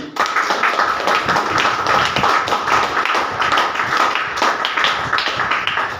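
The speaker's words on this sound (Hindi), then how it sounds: "एक बार अपने लिए ताली बजा लीजिए।" A seated audience at a business training session claps for itself, a dense, even patter of hands that holds steady from start to finish at close range.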